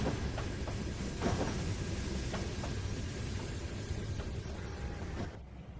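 In the Trainz 2019 railway game, a boxcar rolls along the rails with a steady low rumble and scattered wheel clicks, fading slightly at the very end.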